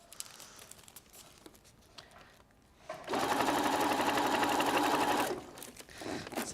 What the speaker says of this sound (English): I'm just stitching all around.